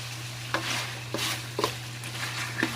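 Pork fries in hot oil, a steady close sizzle broken by a handful of sharp spattering pops spaced irregularly, over a faint constant electrical hum and with no voices.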